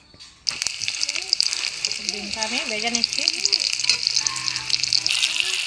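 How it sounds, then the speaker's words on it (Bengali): A boiled egg fries in hot oil in a pan, giving a steady, close sizzle throughout, with a voice sounding over it. "ডিমটা আমি একটু ভেজে নিচ্ছি"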